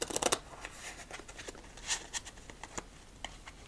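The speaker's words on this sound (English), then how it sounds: "Victory shuffle, let's do this." Playing cards being shuffled for a game of solitaire: a quick riffle burst at the start, then scattered soft taps and flicks as the deck is handled, close and quiet.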